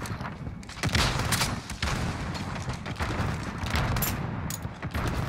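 Rapid gunfire and booming shots from the video game Call of Duty Modern Warfare during a 3 vs 3 tournament match, loud and dense throughout with repeated sharp bursts.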